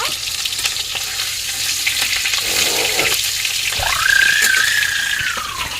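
Giant river prawns fry in hot oil with a loud, steady sizzle and crackle, broken by stirring scrapes and a brief rising squeal midway, close up with no talking.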